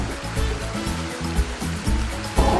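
Strong river water rushes steadily in a clear Vancouver salmon river, a dense, continuous roar with low surging pulses and no voices.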